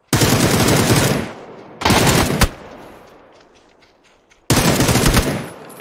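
Automatic gunfire with heavy recoil in a video game: three loud, close bursts of rapid shots, the second cut off into a fading echo before the final burst.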